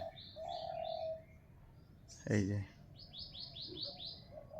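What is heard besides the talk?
birds singing in village morning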